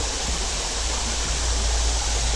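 A small side stream beside a clear creek runs steadily, a dense even wash of flowing water with no breaks, close and fairly loud.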